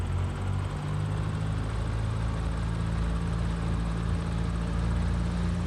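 Piper Tomahawk aircraft engine held at 1800 RPM for a run-up in a flight simulator, a steady loud droning hum with a constant low propeller tone, no talk.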